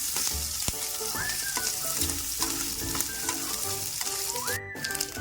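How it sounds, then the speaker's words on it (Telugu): Grated coconut fries in oil in a pan for coconut chutney, a steady close sizzle with stirring scrapes throughout and no talk. "కొబ్బరి ఫ్రై చేసుకొని చేద్దాం."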